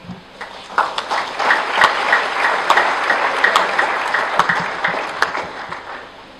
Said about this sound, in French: J'invite l'assistance à les applaudir.